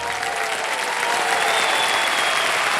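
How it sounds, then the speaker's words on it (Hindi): A studio audience on a TV quiz show applauds, steady dense clapping that swells slightly louder toward the end. "ताली बज जाए इनके लिए"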